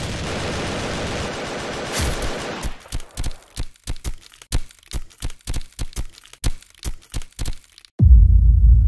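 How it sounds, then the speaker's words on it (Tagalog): Gunfire exchange in a 3D animated reenactment of a police raid: a dense fusillade of overlapping shots, then about fifteen sharp, separate cracks at a steady pace, ending in a loud low rumble. "Ang palitan ng putok ay tumagal ng 15 minuto"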